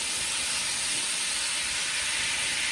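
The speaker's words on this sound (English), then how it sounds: "And we're going to saute these." Shrimp sautéing in a hot pan after salting, giving a steady, loud, broadband sizzle and hiss that carries on unbroken and close by.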